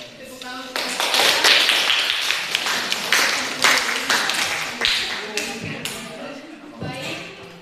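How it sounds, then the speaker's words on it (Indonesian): Students in a class at SMA Negeri 1 Solor Barat applaud, a sustained burst of clapping that rises quickly and tapers off, with voices audible underneath. "Tepuk tangan."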